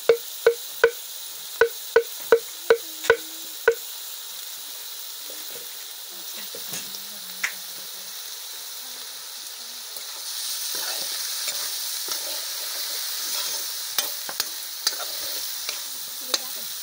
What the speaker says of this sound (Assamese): জলকীয়াখিনি ধুনীয়াকৈ পিচি অলপ জ্বলাকৈ দি দিম জলকীয়াখিনি দি দিছোঁ